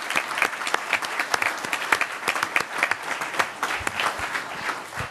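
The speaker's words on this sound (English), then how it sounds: "Everybody clap." Applause rises from the audience at a Camarillo city council meeting, a steady crowd of hands clapping with distinct individual claps standing out, loud and unbroken from start to finish.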